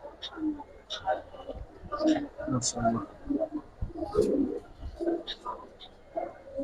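Silver pigeons coo in soft repeated bursts, low and close, amid busy chirping and rustling from a loft full of birds, with someone talking over them throughout.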